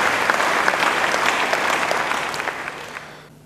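A church congregation applauds after a sermon, steady dense clapping that swells and then fades out toward the end, with no voices over it.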